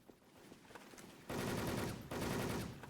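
Rapid automatic gunfire in the online shooter Wolfteam, two loud sustained bursts following a quieter stretch of scattered in-game sounds.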